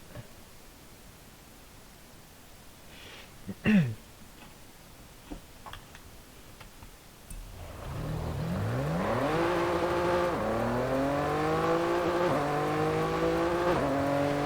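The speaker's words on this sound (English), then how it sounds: "A 3 liter twin turbo Ford Duratec engine" Noble M400 with a 3-liter twin-turbo Ford Duratec engine in Forza Horizon 5: faint ticking and a few clicks at first, then the engine revs up loudly through several rising gear pulls with brief dips at the shifts.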